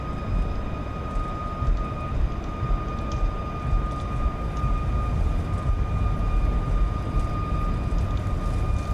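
Airliner jet engines at takeoff thrust in a flight simulator, a steady loud roar with a constant tonal whine running throughout, no voices.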